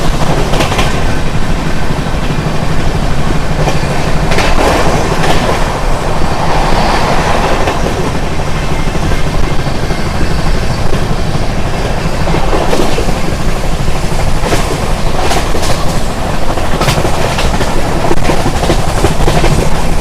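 The 12763 Padmavati SF Express rolls steadily through Singarayakonda station without stopping, a loud continuous rumble of rail wagons with rhythmic clickety-clack from the wheels running on for the whole stretch, with no voices.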